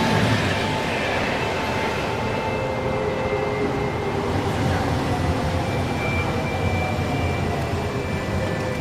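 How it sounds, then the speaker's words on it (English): A train or subway rushes along, a loud, continuous rumbling roar with metallic whine and rattle that stays steady and close the whole time, with no talking. "I remember a train, a subway from the Black Mamba video."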